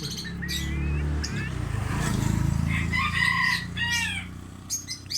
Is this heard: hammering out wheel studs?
no